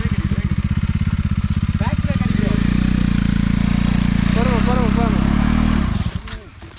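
A motorcycle engine revs during off-road riding around Vattavada, with a loud, steady throbbing close by for about six seconds before dropping off sharply. Voices speak faintly over the engine.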